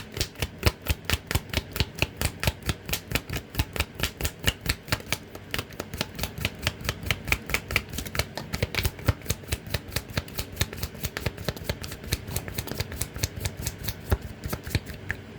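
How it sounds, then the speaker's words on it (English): Rapid rhythmic riffling of tarot cards being shuffled, a long run of crisp clicking flutters close by, repeated steadily without any talk. "Let's shuffle and see what else comes out."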